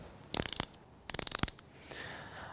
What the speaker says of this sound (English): this one has the freewheel mechanism built into the hub shell. So it ratchets one way and it's fixed the other